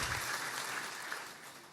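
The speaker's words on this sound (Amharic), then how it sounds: "አጨብጭቡ ግዴላችሁ ብነግራችኋለሁ በደንብ።" A church congregation claps at a preacher's urging during a sermon, a steady wash of many hands heard at moderate distance and sustained throughout without voices on top.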